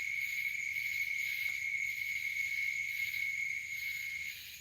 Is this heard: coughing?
no